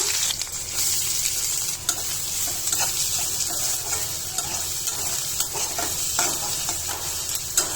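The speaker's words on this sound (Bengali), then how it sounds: "পেঁয়াজটা ভাজা ভাজা করে নেবো" Chopped onion frying in a pan for a fish bhuna, a loud, dense, continuous sizzle with occasional stirring knocks.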